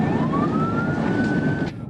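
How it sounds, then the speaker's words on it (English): Police car siren in news footage, a steady rising wail close and loud for about two seconds before cutting off abruptly. "When the driver hears the sirens,"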